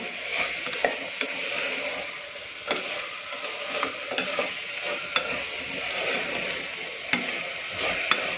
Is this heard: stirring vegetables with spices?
yes